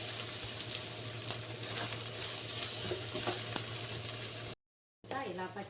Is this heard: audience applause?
no